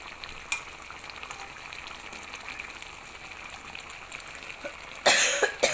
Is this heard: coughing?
yes